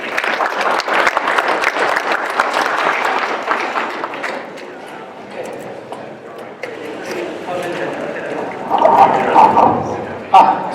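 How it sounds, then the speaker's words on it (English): A conference audience breaks into dense, loud applause that carries steadily for several seconds, then thins out and tapers as a few scattered claps linger near the end. "So let's give them a round of applause."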